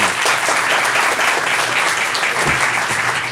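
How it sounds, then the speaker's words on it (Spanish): An audience at a talk on systemic approach and gender applauds the speaker, a clinical therapist, with dense, sustained clapping that holds at a steady, full level throughout. "Un aplauso para él, por favor"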